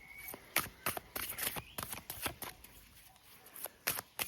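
Tarot cards are shuffled up close in quick, crisp riffling bursts, a run of rapid papery flicks with short gaps between them.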